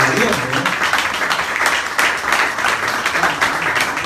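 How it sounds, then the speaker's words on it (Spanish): A church congregation breaks into loud, sustained applause, many hands clapping together in a thick, continuous roar with faint voices mixed in. "Es bueno darle un aplauso al Señor por eso"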